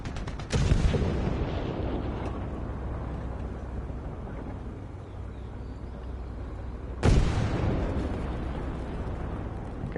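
Heavy cannon blasts in War Thunder low-tier battle, with two loud booming shots several seconds apart, each followed by a long rumbling decay over continuous background battle noise.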